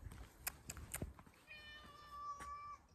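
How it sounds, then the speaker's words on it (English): A cat meows close by in a few short calls, then one longer drawn-out meow, with soft handling noises and light taps in a quiet setting. "There's a cat."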